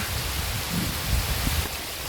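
A steady wash of rushing rainwater, flowing and splashing as it pools on the ground, fills the air evenly and close by.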